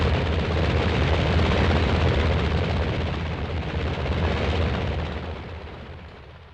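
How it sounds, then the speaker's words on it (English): Two helicopters lifting off at a lagoon near a 1953 atomic test site send out a loud, dense, continuous rotor-and-engine roar that holds steady, then slowly fades as they pull away. "Yet very soon, 2 helicopters are taking off to bring back samples of seawater from the lagoon."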